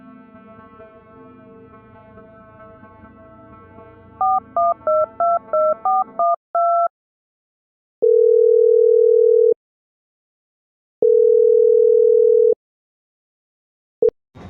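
Telephone keypad tones dialed in a rapid string of short beeps, followed by two long, steady ringback tones separated by silence, then a brief click, heard during a call to a friend named Varun.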